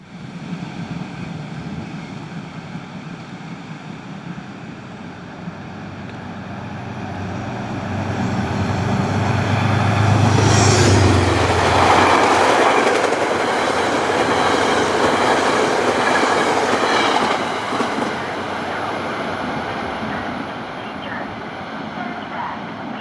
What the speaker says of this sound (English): The M3s meet a northbound Poughkeepsie train as it leaves Irvington.